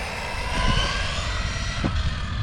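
An Arrma Typhon 4S RC buggy's electric motor whines steadily as the throttle is feathered, with a couple of brief revving surges over a constant broadband drone, close and moderately loud.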